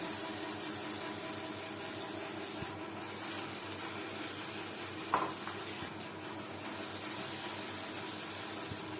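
Battered, stuffed pointed gourd (kakrol) frying in hot refined oil over high flame, a steady close sizzle with watery crackle and a few sharp pops, no talking.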